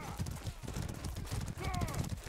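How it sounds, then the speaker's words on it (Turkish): In the medieval combat game Mordhau, a horse's hooves clip-clop steadily and a whinny rises partway through, with someone talking over the sounds. "Aha atı buldum. Beyaz at."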